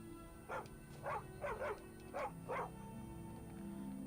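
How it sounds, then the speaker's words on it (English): Dog barks repeatedly in the video game Skyrim, six or so sharp barks spaced through the first three seconds, fairly close over a steady game ambience. "You're not my dog."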